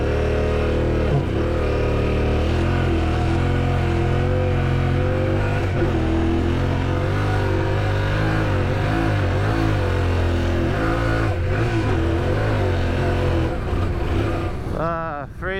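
A Yamaha Tenere 700 adventure motorcycle rides off through sand, its engine droning steadily with rising and falling revs as it pulls away, close and loud throughout, fading slightly at the end.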